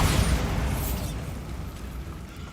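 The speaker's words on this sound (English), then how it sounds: "Bombarda." A Bombarda spell detonates in Hogwarts Legacy, a loud booming blast with a heavy low rumble that starts strong and slowly fades over a couple of seconds, standing alone without talk.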